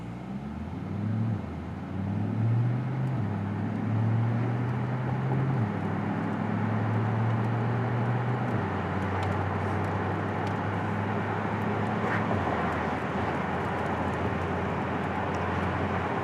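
A 2022 Corvette C8 drives around the block, its engine droning from inside the cabin with shifting low tones as it accelerates and changes gear, steady and moderately loud throughout.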